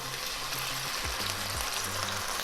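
A pork chop sizzles steadily in a lightly oiled pan, a dense, even crackle of frying that holds at close range throughout with no voices over it.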